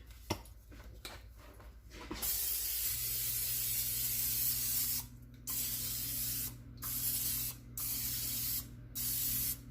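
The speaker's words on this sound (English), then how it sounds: "let me go ahead and spray my pan" Cooking spray hisses onto a pan in several long bursts separated by short pauses, loud and close.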